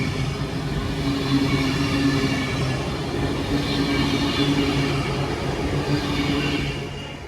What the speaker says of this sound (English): It's going to be a passing through Avanti West Coast service to Glasgow Central from London Euston, 390050 on divert.